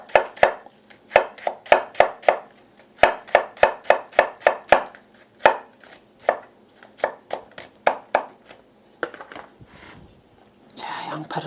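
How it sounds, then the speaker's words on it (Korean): Onion being finely chopped with a knife on a board for oyster pancakes, a fast run of sharp, evenly spaced close chops that slows toward the end, with soft speech between strokes. "저는 양파를 좀 잘게 썰어서 넣을게요"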